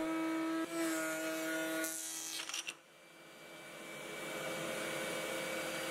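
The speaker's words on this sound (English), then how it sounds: "to finish it off on the router using a flush trim bit." A router fitted with a flush trim bit trims a wooden board from an old whiskey barrel, a loud steady whine with a brief rough cutting burst near the middle, then the motor tone carrying on alone.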